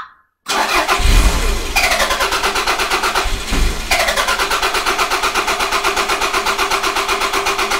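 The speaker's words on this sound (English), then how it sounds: "this time I'll just keep cranking. And I'll keep it cranking for maybe 5 or 6 seconds" A Toyota MR2 engine is cranked by the starter for several seconds, a loud, close, steady rhythmic whirring chug that pauses briefly and resumes without the engine catching.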